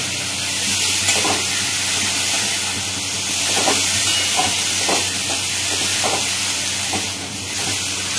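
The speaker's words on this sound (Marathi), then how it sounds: "जी भाजी आपण धुवून ठेवली होती ती याच्यामध्ये घालायची आहे आणि एकदा व्यवस्थित परतून घ्यायचं आहे" Washed leafy greens sauté in spiced oil in a pan, making a loud, constant hiss with occasional soft stirring scrapes through the steam.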